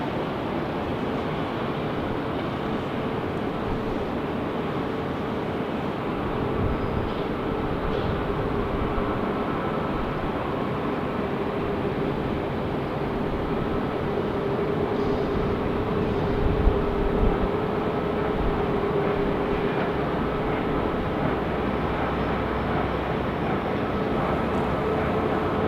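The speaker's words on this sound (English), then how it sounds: "This is the first Allegiant Max 8 that I've personally seen" An Allegiant Boeing 737 MAX 8 jet at Nashville International Airport gives a steady, broad roar that holds for nearly half a minute, loud and continuous with only slight swells, and no talk.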